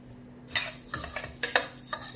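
Whole coriander seeds dry roasted in a pan for sambhar masala, stirred with a spoon: a handful of quiet, dry scraping and rattling strokes follow a brief silence, with no voices.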